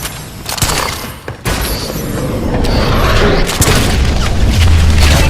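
A DNA bomb detonating in the Call of Duty: Advanced Warfare video game, a loud, sustained roar of blasts and mechanical clatter that builds and fills the whole stretch.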